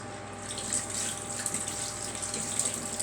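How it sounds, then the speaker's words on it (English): Steady running tap water pours over shiny black chilli peppers being rinsed in a sink, a continuous close gush without speech. "Now, just give these a good rinse."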